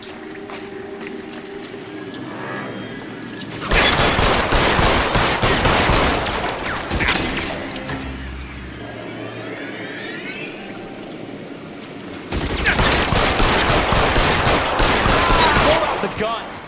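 Bursts of gunfire in the crime video game L.A. Noire, with dense volleys of shots at roughly 4–8 seconds and again at 12–16 seconds, loud and close, separated by quieter stretches with faint voices.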